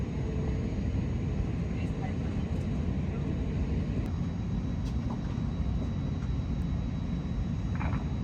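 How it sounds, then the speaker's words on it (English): A Finnair Airbus A321 airliner taxis and takes off, heard from the cabin as a steady broadband roar of engine and airflow, constant and moderately loud throughout. "Next it was time for pushback, taxi, and takeoff."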